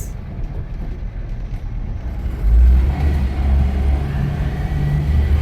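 A car engine driven and revved, recorded from inside the cabin, with a steady road rumble that swells into a louder, deep rev partway through before settling into a sustained drone.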